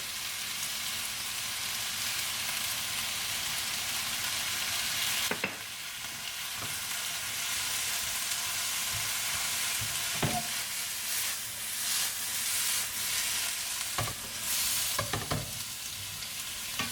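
Soy sauce mixed with sugar sizzles and crackles steadily in a hot stir-fry pan, a dense continuous fry with a few sharper stirring clatters and knocks breaking through.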